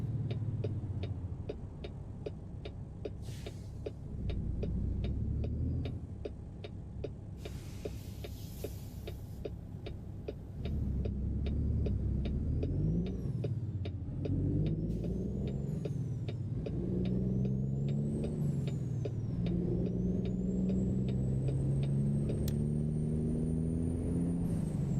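A Peterbilt 567 truck drives along in American Truck Simulator, its steady engine drone rising and falling through gear changes, with whirring road noise and a brief air-brake hiss near the start.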